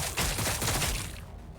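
Rapid volley of gunfire in Warhammer 40k Battlesector, a dense burst of close, loud shots rattling for about a second before trailing off.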